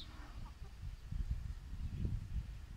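Chickens in a backyard garden flock, low soft clucking and murmuring in uneven bursts, fairly faint and close.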